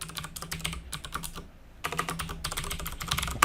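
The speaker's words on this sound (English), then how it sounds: "If I type in meat, we get Matt" Typing on a computer keyboard, close rapid bursts of key clicks with a brief pause in the middle, no voices.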